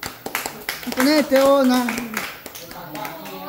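People applaud a young girl dancing at a lively gathering, with quick claps heard under loud, continuous talk.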